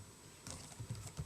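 Quiet keystrokes on a computer keyboard as Python code is typed, a few soft close clicks in an uneven rhythm.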